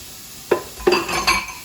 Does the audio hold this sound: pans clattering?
yes